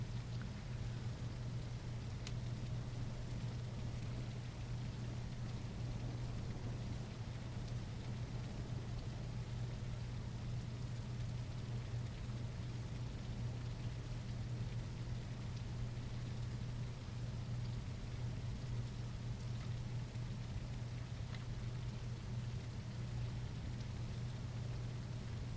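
Steady rain in the dinosaur survival game The Isle Evrima, a constant soft hiss of falling water that runs evenly throughout with no voices.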